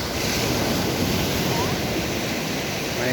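Sea waves at Tugis Lake View wash in a continuous broadband roar, loud and close, mixed with wind buffeting the microphone and no clear talk.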